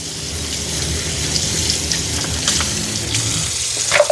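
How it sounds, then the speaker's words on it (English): Tap water gushes steadily through a Shark robot vacuum and mop combo's mop part during cleaning at a sink, a loud, close, unbroken hiss and splash with no talking. "It doesn't hurt to run some water through it."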